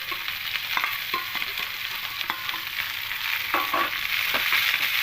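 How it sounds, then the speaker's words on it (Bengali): Chopped onion and green chilli fry in hot oil with garlic in a pan on a gas flame, giving a steady loud sizzle with scattered scraping stirs throughout. "এবার এখানে দিয়ে দেবো পেঁয়াজ কুচি আর কাঁচা লঙ্কা কুচি"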